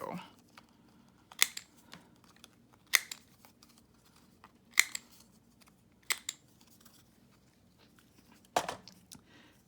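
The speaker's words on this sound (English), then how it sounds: "And then we're gonna cut this down" Scissors cut down a sheet of paper for a lace folio, making crisp snips spaced a second or two apart with light paper rustling between them, close and clear.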